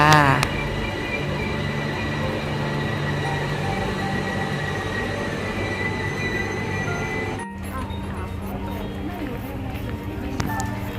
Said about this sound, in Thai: ต่อด้วย รถไฟฟ้านะคะแอร์พอร์ตลิงนะคะ